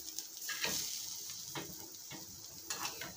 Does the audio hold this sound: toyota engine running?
no